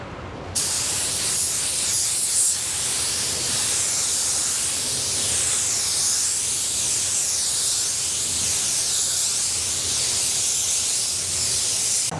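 An air spray gun hisses continuously at 26 PSI while laying a uniform wet bed coat of automotive paint, a loud, steady broadband spray that starts abruptly and runs unbroken.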